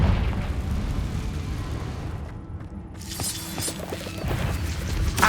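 In Hogwarts Legacy, a Confringo fire spell detonates with a loud booming blast and crackling debris, set amid ongoing combat rumble and clatter in the game.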